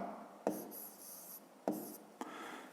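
Pen or pencil strokes write an answer by hand in a quiet room, a few faint scratchy marks separated by short tapping contacts, close and soft.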